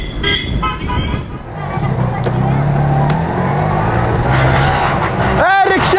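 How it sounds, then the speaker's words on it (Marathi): An auto rickshaw's engine rumbles steadily close by under loud, lively talk, with a short horn toot and a sharp sweeping screech near the end. "रिक्षा"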